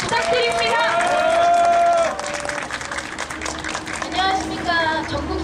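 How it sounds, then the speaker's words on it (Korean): A labor strike rally crowd breaks into loud applause and cheering that fills the first two seconds, then thins into scattered clapping and murmuring voices. "어느 때보다 큰 박수 함성 부탁드립니다"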